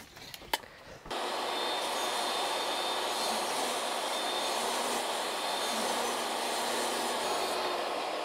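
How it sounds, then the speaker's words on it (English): A jet aircraft roars overhead above a wooded off-grid house build site, a loud broadband rumble that sets in abruptly after a few faint knocks and holds steady and unbroken, with no voices. "I keep hearing so many jets or something"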